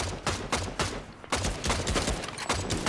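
Rapid bursts of automatic gunfire from a shooter video game, played with an AR, sound in loud repeated volleys with brief gaps between them and no voices on top.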